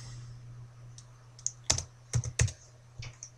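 A few keys pressed on a computer keyboard, quiet close clicks in a short irregular cluster over a low steady hum, no voices.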